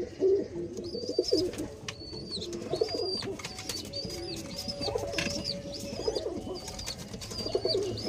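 Pigeons coo repeatedly in a soft, rhythmic series of close calls, with a few chirps mixed in and no talk over them.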